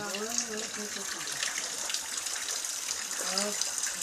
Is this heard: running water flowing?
yes